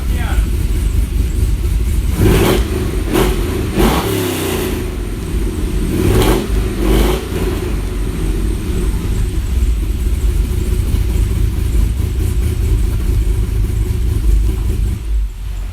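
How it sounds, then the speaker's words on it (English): A Targa Miata's engine runs loud and close, a continuous throaty rumble with a few rev surges early on. People talk over it throughout. "they always want to hear one of the NDs or this car up and running"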